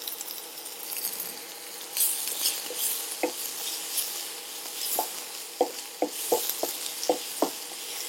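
Tomato frying in a pan for a soya chunk roll filling gives a soft continuous sizzle, while a metal spoon scrapes and clinks against the pan in quick, uneven strokes.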